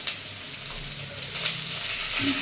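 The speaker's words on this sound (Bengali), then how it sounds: "এগুলো হালকা করে ভেজে নেব পেঁয়াজ" Sliced onion and garlic lightly frying in a pan, giving a steady, close, soft sizzle with a few faint stirring clicks throughout.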